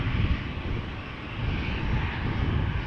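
A KLM jet airliner on a flight to Copenhagen at Amsterdam Schiphol Airport, a loud steady engine roar rumbling close by throughout, with no talk over it.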